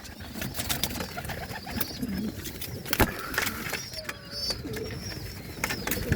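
Pair of home-bred yellow color pigeons cooing softly, low murmuring calls spread through the scene amid scattered clicks, shuffles and a few sharper taps nearby.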